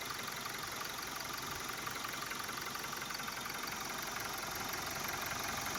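A Toyota Hilux 2GD diesel engine idles steadily after a timing chain replacement, a continuous mid-pitched rumble with a faint knocking texture, close and even throughout with no talking.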